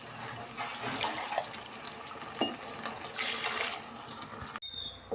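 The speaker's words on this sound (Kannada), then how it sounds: "ಈಗ ನೀರು ಸೇರಿಸ್ಕೊಳ್ಳೋಣ. ನಮ್ಗೆ ಎಷ್ಟು ಬೇಕೋ ಅಷ್ಟು." Water is poured into fried spice masala for okra sambar, making a steady splashing, running-water sound close by for several seconds before it stops abruptly.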